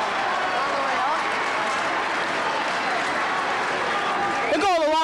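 Crowd noise swells at a 1998 high school boys basketball game against Cambridge Rindge & Latin, a loud continuous roar of cheering and clapping filling the gym throughout, with a whistle near the end.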